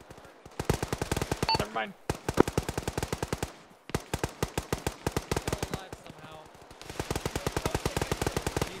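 Sustained automatic gunfire in Arma with the ShackTac group: long, fast, evenly spaced machine-gun bursts separated by brief pauses, close and loud, with a voice speaking briefly between volleys.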